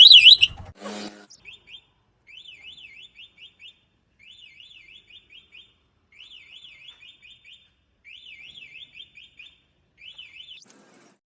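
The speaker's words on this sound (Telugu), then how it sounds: "రివర్స్ సైడ్ స్విచ్ ఆన్ చేశారంటే మీకైతే బజర్ అయితే ఆన్ అవుతుంది" An electric three-wheeler loader's reverse buzzer sounds a repeating electronic warbling beep in short bursts with brief pauses between, steady and fairly loud, with a couple of clicks at the start and end.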